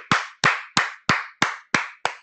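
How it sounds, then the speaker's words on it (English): Seven sharp, evenly spaced hand claps ring out close and loud over about two seconds, a lone clapper greeting Alicia Dunams at an online event. "let's give a virtual applause to my buddy and your new friend"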